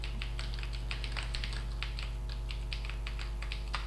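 Rapid, close keystrokes clatter on a computer keyboard as someone types a place name, steady and alone over a low electrical hum.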